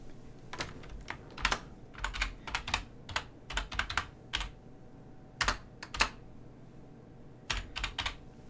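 Keys clatter on a computer keyboard in irregular bursts of quick, crisp clicks with short pauses between, close and clear over a faint room hum, with no one speaking.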